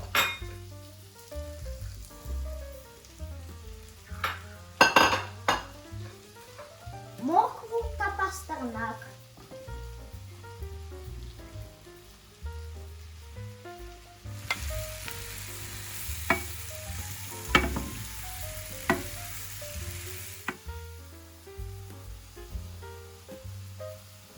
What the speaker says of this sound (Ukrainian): На маслі обсмажуємо цибулю, гриби.